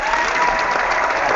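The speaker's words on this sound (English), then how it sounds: "Everybody knows how much I love to clap." Steady, close clapping fills the short stretch without a break, a dense wash of hand claps like a small group applauding together, with no speech over it.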